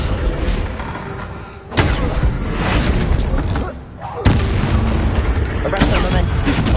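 Spell impacts from Flipendo and Descendo in the Hogwarts Legacy video game: dense, heavy booming blasts that roll continuously, with two strong new bursts landing partway through and loud rumbling between them.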